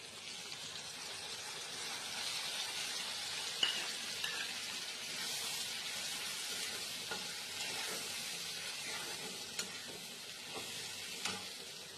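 Spice paste for echor torkari (green jackfruit curry), mixed with salt, turmeric and a little yogurt, sizzles and fries steadily in a pan, with occasional scrapes and clicks of stirring.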